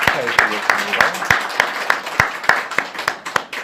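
A church congregation claps during a Sunday worship service to honor newly appointed deaconesses. The claps are spaced and fairly rhythmic, with a speaking voice at the start and voices beneath them.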